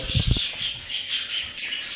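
Shrill squawks and chattering from a budgerigar, close and repeated in quick bursts, with some soft thumps and rustling at the start.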